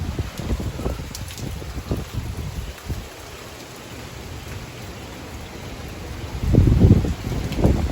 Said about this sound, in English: The wind is still really strong.